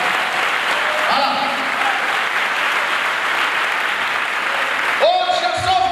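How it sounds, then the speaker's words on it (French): A church congregation in Côte d'Ivoire applauds and cheers loudly and steadily for Jesus. A preacher's voice carries over the crowd throughout. "Là, on acclame Jésus"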